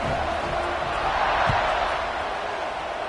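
A football stadium crowd during a Syracuse at Minnesota scrimmage gives off a steady, distant roar after a touchdown. The murmuring cheer holds at an even level throughout without sharp peaks.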